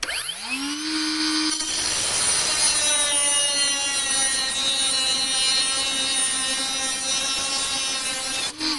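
A small Einhell TP-CO 18/76-C cordless mini angle grinder spins up with a rising whine, then bites into 10 mm steel rebar with a steady, loud high-pitched grinding that holds for several seconds before stopping.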